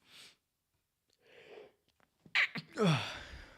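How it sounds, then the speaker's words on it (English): A single sneeze with a quick inhaled build-up and a sharp burst. Faint breaths come before it and a short snort-like exhale follows, close to the mic in an otherwise quiet room. "Sorry for sneezing on air."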